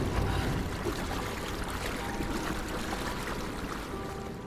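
Water sloshing and rushing as it is displaced in Rise of the Tomb Raider, a continuous churning wash with trickling and splashing texture, fairly close and steady, no talk.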